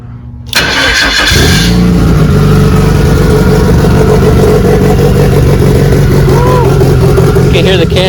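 A turbocharged car engine cranks and catches, then runs loud and close at a steady, slightly rough idle. A voice can be heard faintly over the engine.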